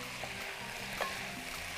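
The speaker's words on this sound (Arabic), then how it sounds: "ونشوح كده تشويحة حلوة تدي طعم كده للبطاطس" Potatoes seasoned with salt and pepper sautéing in a pan, a steady low sizzle with faint scraping and one brief clink near the middle, no voices.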